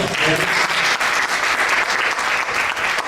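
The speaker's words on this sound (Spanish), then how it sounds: "Vamos a darle un aplauso" A church congregation applauds to welcome a pastor, dense steady clapping filling the room at close range with no pauses.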